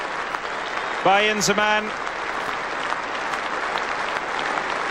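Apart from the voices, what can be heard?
standing ovation applause at Lord's Cricket Ground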